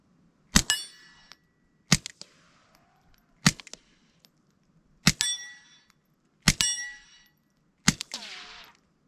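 Six suppressed .22 subsonic rifle shots through a SilencerCo Sparrow 22, each a sharp metallic crack with a brief ringing tail, spaced about a second and a half apart, close and loud with no talking.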